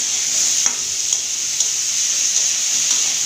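Fried cauliflower, potatoes and rui fish cooking in a pan, a loud, continuous hissing sizzle with a few soft stirring knocks spaced through it, close up with no voices.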